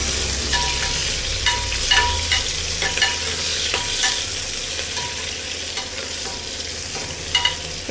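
A medium onion fries in a pan for vegetable pulao, a constant loud sizzle with spatula scrapes and stirring clatter recurring throughout, close up and without speech.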